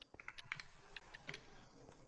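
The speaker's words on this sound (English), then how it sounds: "I'm typing my username" Someone types a username on a computer keyboard, producing a quick, irregular run of light key clicks close by and fairly quiet, with no talking.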